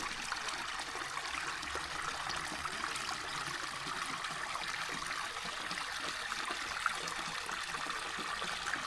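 Steady trickling cold spring water runs continuously from a pipe in a forest, a soft, even splashing hiss with no voices, like a thin stream pouring out.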